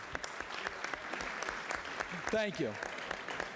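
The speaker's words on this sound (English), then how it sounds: "that deserves a round of applause" Scattered applause rises in a large UN meeting chamber, a steady patter of claps at moderate distance, with a brief spoken thanks partway through.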